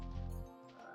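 A single frog croaks in the video game Spyro the Dragon, one short, deep, fairly soft croak standing alone with a little game ambience after it.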